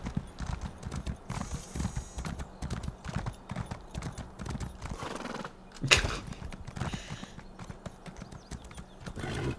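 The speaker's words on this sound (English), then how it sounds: "Look at my horse." Horse mount hooves clip-clop steadily in the ESO Summerset video game, a rapid rhythmic trot close up, with a whinny and a sharp clatter partway through, no speech.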